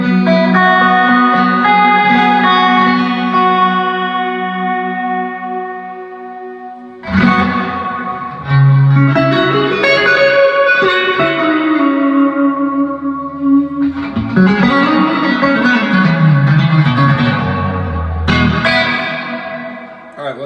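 Electric guitar chords ring out through a Keeley Caverns V2 pedal's shimmering, warbling modulated reverb, long washy tails pitch-wavering behind the notes, with gaps and new strums over twenty seconds.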